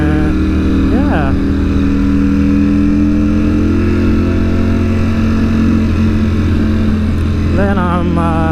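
A Ducati StreetFighter V4S motorcycle engine under way with a steady loud drone, pitch sweeps as it revs up and shifts near the start and again near the end, wind roar throughout.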